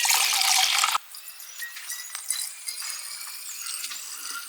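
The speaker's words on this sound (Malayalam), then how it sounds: "അതിനകത്തേക്ക് ഒഴിക്കാനായിട്ട് നമുക്ക് കപ്പിനകത്തേക്ക് ജസ്റ്റ് ഒന്ന് മാറ്റാം കേട്ടോ" Homemade red grape wine poured into a cup, a loud rushing pour for about a second that cuts off, followed by faint dripping, trickling and light clinks.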